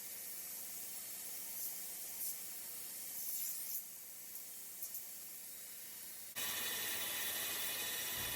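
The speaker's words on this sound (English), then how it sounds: "now I am just using the flat platen to grind the sides of the scales flat" A belt grinder with a flat platen grinding the sides of buffalo horn knife handle scales, producing a steady close abrasive hiss and rub with small surges, then a sudden jump to a louder, brighter grinding roar near the end.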